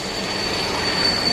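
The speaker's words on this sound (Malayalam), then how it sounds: "അമ്മാതിരി കയറ്റമാണ്, ട്രെയിൻ വലിഞ്ഞ് കയറിക്കൊണ്ടിരിക്കും" A train labours up a steep grade on a hill railway, heard as a steady, broadband rumble with a faint high whine, continuous and fairly close with no talk.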